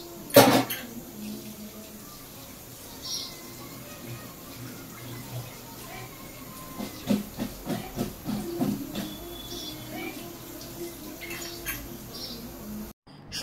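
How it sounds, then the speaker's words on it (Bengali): Vegetables, potatoes and cauliflower among them, are rinsed on a plate under running water. A faint, steady hiss carries light clinks and a cluster of soft knocks and splashes midway, with no voices. "চলুন সবজিগুলো থালায় সুন্দর করে তুলে একবার ভালো করে ধুয়ে নিই"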